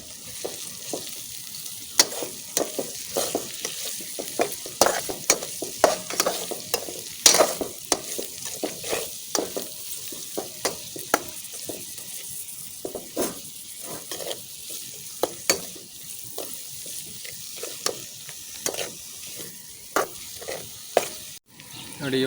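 Chopped medium capsicum stirred and frying in a pan for tender jackfruit manchurian, with steady sizzling and frequent scraping, clinking spatula strokes throughout, close and fairly loud with no talk.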